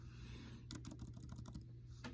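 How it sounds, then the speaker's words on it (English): A short run of quick keystrokes on a computer keyboard, several soft clicks in close succession followed by one last tap, quiet and near with no talking. "So I type in,"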